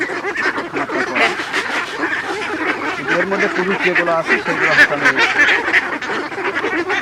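Ducks on a small egg-laying farm quack and honk intermittently in the background while someone talks steadily over them, the calls fairly close but partly masked by his voice.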